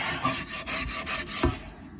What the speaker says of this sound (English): we will get this scrubbed out here